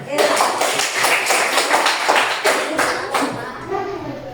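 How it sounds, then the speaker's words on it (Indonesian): Classroom of students clapping hands together in an Islamic religious education lesson, a dense burst of many claps sustained for several seconds at close range, tapering slightly near the end. "Tepuk tangan untuk"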